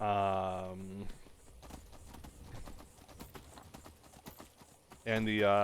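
Horse hooves clip-clop at a steady walking rhythm in the Skyrim video game, a quiet, close patter with someone talking at the start and again at the end.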